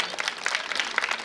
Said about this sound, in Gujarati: તો માલશ્રીબેનની મહેનતને પણ આપણે એક વખત જોરદાર તાળીઓથી વધાવીએ